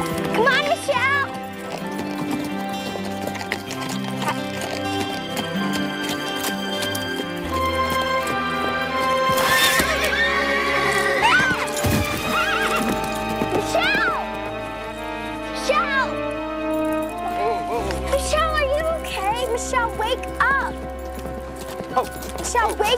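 A horse gallops with rhythmic clip-clop hoofbeats and gives a whinny, set under a busy music score with voices talking over it, from a sitcom scene of a girl riding and jumping a log.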